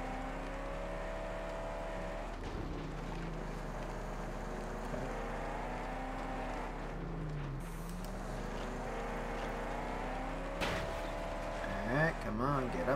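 A car engine in the game Mad Max drones steadily through rough terrain, with pitch rising and falling and a brief rev near the end. Someone talks over it.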